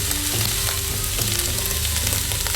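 Onion and garlic frying with browned mince in a Ninja Foodi, a dense close sizzle and crackle running continuously at steady loudness.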